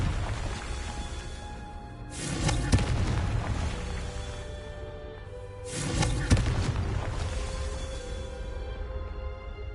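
Two Confringo fire-spell blasts from the video game Hogwarts Legacy, each a loud booming burst with a roaring tail, the two spaced a few seconds apart over a steady rumbling game backdrop.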